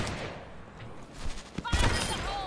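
A few sharp rifle shots from Ashe's weapon in the Overwatch video game ring out at close range, with a louder burst of gunfire and explosive thumps toward the end over steady game ambience.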